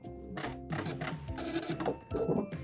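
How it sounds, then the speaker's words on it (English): A sewing machine running a zigzag stitch through several fabric layers for high-waisted panties, a quick mechanical clatter in short uneven bursts, close and fairly quiet. "Make sure you have your zigzag stitch set up, and let's sew all these layers together."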